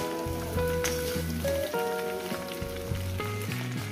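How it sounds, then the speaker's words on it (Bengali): Eggplant frying in hot oil for a Bengali chorchori with taro, potato and hilsa fish head, a steady sizzle running beneath louder background music for the whole stretch. "এবার এটাকে আরও আমি 5-6 মিনিট ধরে ভাজবো বেগুনটাকে দিয়ে"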